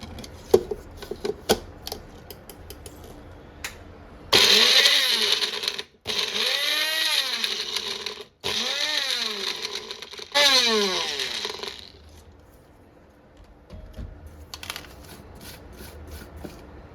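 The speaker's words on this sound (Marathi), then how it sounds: "ह्याला झाकण लावून थोडंसं आबडधोबड वाटून घ्यायचं" A mixer grinder coarsely grinding vegetables with the lid on, running in several loud bursts separated by brief pauses, with clicks and handling before and after.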